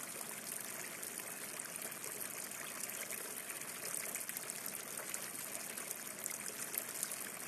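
A stream of flowing water rushes and trickles steadily and evenly for the whole stretch, a continuous close wash of sound with no voices over it.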